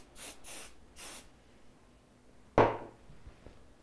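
A hair spray bottle gives three quick short hissing spritzes onto braided hair, close to the mic in a quiet room, followed by a sharper single knock or handling thump.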